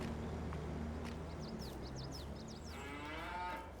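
Cattle in a barn in Farming Simulator 22 give a single drawn-out moo near the end, low and moderately loud over a steady hum of farm ambience, with faint bird chirps earlier.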